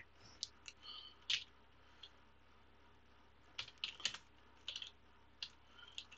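Someone types on a computer keyboard in quiet, irregular bursts of soft, close keystroke clicks with short pauses between them. No one speaks.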